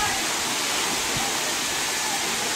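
A waterfall in the countryside near Cabrera, Dominican Republic, makes a dense, constant rushing roar, loud and close throughout with no break.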